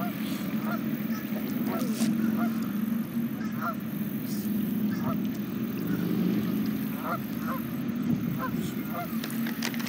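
Geese honk repeatedly at a distance over steady outdoor background noise, with scattered calls throughout.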